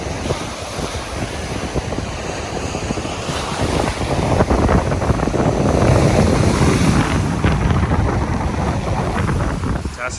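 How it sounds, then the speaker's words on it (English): Strong wind buffets the microphone while waves surge and wash continuously, the roar swelling louder toward the middle. "it is super windy and wavy"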